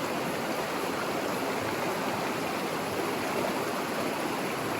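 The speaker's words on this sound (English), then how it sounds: "Rinse the lighter material out the front of your pan" Steady wash of flowing water while gravel is rinsed in a gold pan, a constant soft rushing hiss with no distinct breaks, faint and even throughout.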